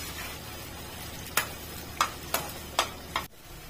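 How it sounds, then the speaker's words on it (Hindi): Long-sliced onions fry in oil with whole spices for a Kokani chicken salan. A faint sizzle runs under a handful of crisp spoon taps and scrapes against the pan, and no voice is heard. "अच्छे से हमें इसे तेल में फ्राई करके ले लेना है"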